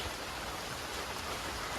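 Rain falling on the thatched roof of a village hut: a steady, soft, even hiss of downpour with no breaks, fairly quiet and close.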